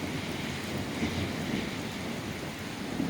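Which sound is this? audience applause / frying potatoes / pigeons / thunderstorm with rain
thunderstorm with rain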